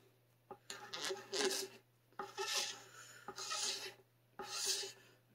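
A blade scrapes along the binding of a fabric-top Telecaster guitar in four distinct, rasping strokes with short pauses between, close and fairly quiet.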